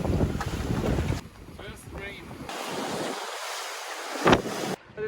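A sailboat crossing the Atlantic Ocean in calm, nearly waveless conditions at about five knots, with steady wind rushing across the microphone and soft water hiss along the hull, broken by brief gusty bursts.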